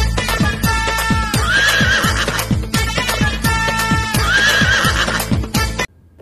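A horse whinnies loudly twice over a steady clip-clop rhythm of hooves, no voices, ending abruptly.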